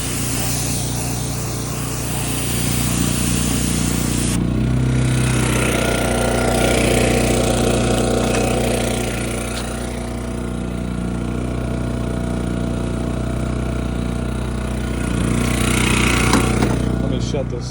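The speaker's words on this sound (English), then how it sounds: "The Gen Max is definitely a little bit louder than the Predator" A Gen Max generator drones loudly while powering a pressure washer, the engine note steady and close with the spray's hiss swelling and easing over it.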